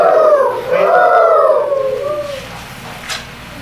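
Several voices imitate a great horned owl's call together, sliding hoots that rise and fall over about two seconds. They are close and loud, then fade into quiet.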